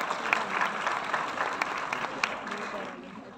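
An audience at a children's award ceremony applauds the guest of honour: moderate, continuous clapping with voices mixed in, heard from within the hall.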